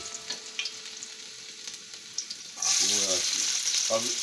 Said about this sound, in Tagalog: Mantika sa kawa. Lagay po, magigisa po tayo.